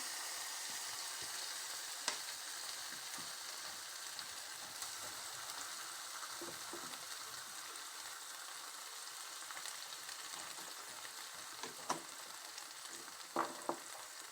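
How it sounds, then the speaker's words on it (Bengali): Fresh chhana curd cooks in a wok with a quiet, even sizzle, broken by light clicks and taps of a spatula stirring it, no speech. "এবার আমি একটা কড়াই বসে এর মধ্যে আমি দিয়ে দিচ্ছি ছানা"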